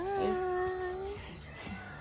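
A cat meows with a drawn-out, wavering tone, heard outdoors on a trip in Eilat, Israel, against a steady background of ambient noise, then fades into quieter murmur.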